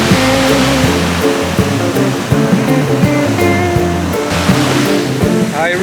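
A waterfall in a European nature spot roars loudly and steadily from close by, a dense continuous rush of falling water that fills the whole stretch without pause.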